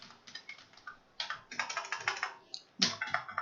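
An email address being typed on a computer keyboard: quick bursts of close, crisp key clicks separated by short pauses, alone without any talking.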